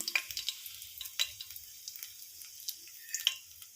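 Hot oil sizzles steadily at a low level as dried red chillies, cumin, mustard seeds and peanuts fry, while sharp crackles and spatters pop out now and then, with occasional stirring clinks.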